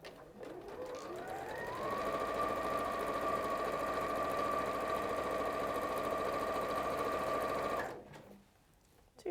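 A domestic sewing machine chain-stitches fabric pieces together in one continuous run, whirring up to a steady, even hum for about six seconds before stopping abruptly; close and clear, with no talk.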